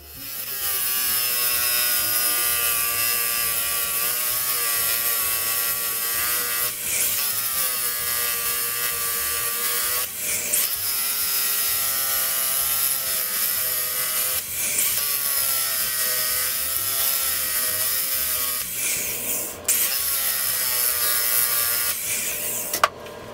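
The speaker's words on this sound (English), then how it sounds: "Now that I've ground away the head of that screw, I can see why he brazed it" A grinder cutting away the brazed head of a screw on an antique Swan beam drilling machine, a sustained harsh whine broken by brief pauses and scrapes every few seconds, close and steady.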